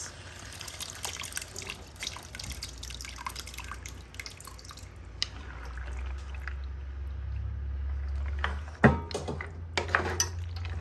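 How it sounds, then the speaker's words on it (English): Stock poured into a pot of mixed Italian pasta, a low continuous liquid rush building over several seconds, with light dripping and clinks of a pot and utensils, then a sharp knock near the end. "So right now I'm just gonna add all the stock to it."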